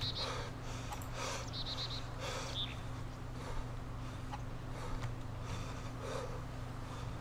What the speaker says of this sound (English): Come on, stop heavy breathing.